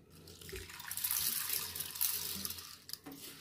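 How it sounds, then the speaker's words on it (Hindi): Water is poured into lentils in a bowl for a dal namkeen recipe, a close, splashing gush that swells and then tapers off over a few seconds. "उसके बाद डालना है इसमें पानी"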